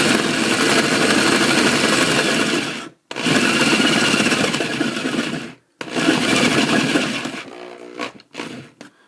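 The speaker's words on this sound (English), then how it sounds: "this is my 15-year-old drill, and the chuck doesn't work very well" A 15-year-old power drill with a worn chuck bores a notch into wood for a train layout toggle switch, whirring loudly and steadily in three long bursts separated by brief stops, ending in short stuttering pulses.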